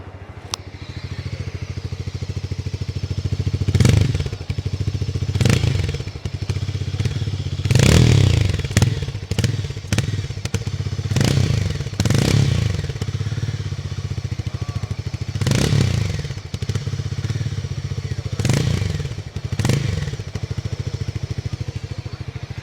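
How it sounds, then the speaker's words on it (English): A Harley-Davidson X440 motorcycle engine idles steadily nearby, punctuated by repeated revs and thumps, with clattering mechanical noise throughout. "So you have the engine start stop button here, and this is how it sounds."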